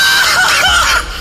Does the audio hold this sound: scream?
yes